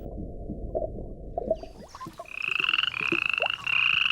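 A toad croaks in a natural setting, with faint scattered sounds at first, then loud pulsing trills that repeat in rhythmic bursts and grow stronger near the end.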